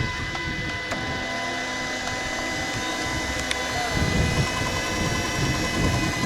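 A small model jet turbine engine of 26 kg thrust whines as it spools up, a thin steady high-pitched tone with mechanical rumble, while people talk nearby.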